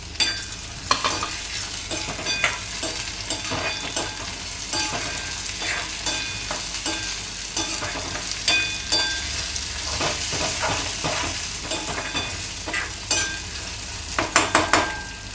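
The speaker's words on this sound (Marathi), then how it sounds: "टॅमॅटोही चांगला असा परतून घ्यायचा आहे" Tomato being sautéed with browned onion in a pan, a steady sizzle broken by repeated scraping stirs and a few louder clinks of the spoon near the end.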